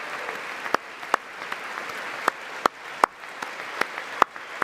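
A large audience bursts into sustained applause at Trump's joint presidential address, a dense, steady wash of clapping with sharper individual claps popping out at irregular moments, heard at a distance in a big hall.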